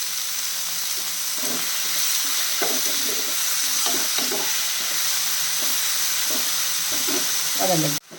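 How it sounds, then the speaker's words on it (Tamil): Tomatoes with salt sautéing in a pan hiss steadily while a spoon scrapes and stirs in repeated strokes, close up, ending with a brief clatter. "தக்காளி சேர்த்து நல்லா வதக்கிடலாம்."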